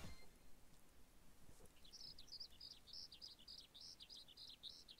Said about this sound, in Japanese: お小鳥のさえずりから